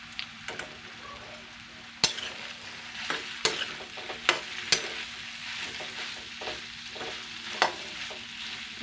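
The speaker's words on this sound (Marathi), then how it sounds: "त्याच्यामध्ये असं हे सोयाबीन हे करून घेऊया, फ्राय करून घेऊया." Soybean chunks fry in a little oil while being stirred, giving a continuous soft sizzle with regular clinks and scrapes of the spoon against the pan, close and without voices.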